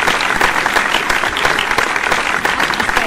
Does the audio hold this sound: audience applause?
yes